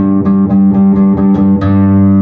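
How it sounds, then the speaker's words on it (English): Sustained electric guitar chords through a Tube Screamer pedal set to mild distortion, with a gritty, lightly overdriven tone, strummed in a steady rhythm of about six attacks, loud and close with no talking. "when I turn on my tube screamer, I have it set to a very mild distortion"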